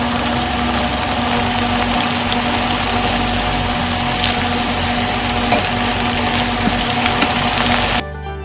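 Vegetables deep-frying in hot oil, a dense continuous bubbling sizzle with a steady hum underneath, loud and close, cutting off abruptly near the end.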